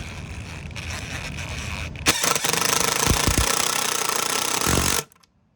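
A power drill drives a screw through a metal handrail bracket into a concrete step, with a low idle whir building to a loud, sustained grinding burst that stops abruptly after about three seconds.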